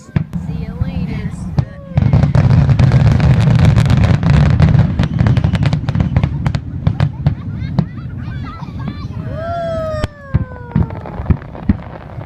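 Loud fireworks burst close by in the grand finale of a display, with dense, rapid explosions and crackles, a few whistling rockets toward the end, and a cheering crowd with voices audible underneath.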